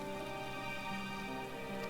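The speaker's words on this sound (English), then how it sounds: "It's raining. It's raining." Steady rain falling in the video game Final Fantasy XIV: Endwalker, a continuous soft patter spread evenly through the whole stretch with a low hum of game ambience beneath it and no talking.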